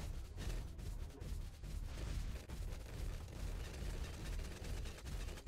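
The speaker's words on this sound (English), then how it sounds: "You can hear those explosions in the background." Continuous rumbling explosions from the Bloons TD tower defense game, dense overlapping booms with a loose rhythmic pulse, steady and loud throughout with no voices.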